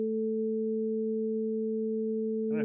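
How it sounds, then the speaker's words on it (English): Two pure sine tones played together on an electronic keyboard in a physics class, a steady, unwavering pair of clean pitches sustained evenly, with a brief rise of other sound right at the end. "so a pure tone sounds kind of like this."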